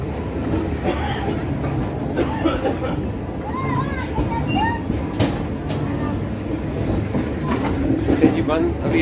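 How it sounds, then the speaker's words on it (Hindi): Train at Tando Adam railway station in Sindh, a steady rumbling rail noise with wagon clatter throughout, with crowd babble and voices nearby and a few bird-like chirps over the din. "ये है जी टंडो आदम रेलवे स्टेशन।"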